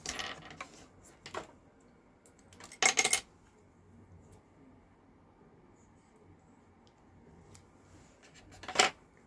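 Scissors snip through thread for binding a handmade journal, with two crisp cuts standing out over quiet handling noises and light fumbling.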